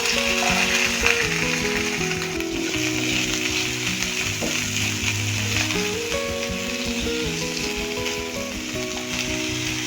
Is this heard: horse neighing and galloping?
no